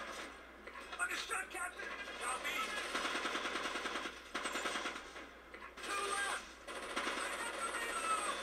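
Machine gun fire in the video game Ghost Recon Advanced Warfighter 2, rapid rattling bursts coming in repeated waves under shouted voices and battle noise, with brief gaps between volleys.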